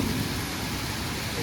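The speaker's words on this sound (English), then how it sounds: "it's raining." Steady broadband rain hiss, fairly close and continuous, with a low rumble underneath.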